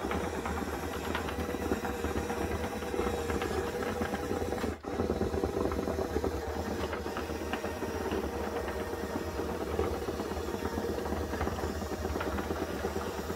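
Small 43 RPM gear motors drive a 1/16 scale Ertl Case 688 RC diecast excavator, producing a steady, faint, continuous motor whine and hum with a light mechanical rattle throughout.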